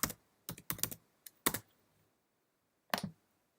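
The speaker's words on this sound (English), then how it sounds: "let's type in the word crime before drama" A search word is typed on a computer keyboard in short clusters of crisp, close keystrokes separated by brief pauses, with no voice present.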